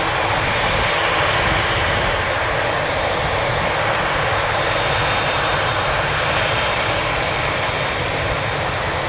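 Boeing 787 Dreamliner jet at Toronto Pearson airport, a loud, continuous broadband engine roar sustained throughout, steady and close with no talk.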